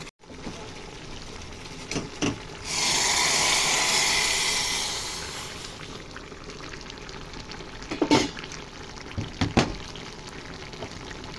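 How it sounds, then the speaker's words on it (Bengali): Boiled hot water poured into a Bengali-style pui shak curry in a pan, a steady rushing pour lasting a few seconds, followed by a few utensil knocks, close with no talking. "এবার এই জলটাকে আমি তরকারিতে ঢেলে দিচ্ছি।"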